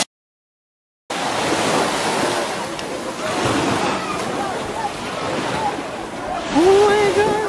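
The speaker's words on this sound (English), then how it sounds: "we're here at Hellshire Beach" Surf and wind at Hellshire Beach, Jamaica on a Sunday morning, steady broadband wash of waves with microphone wind buffeting after a brief silent start, voices faintly present underneath.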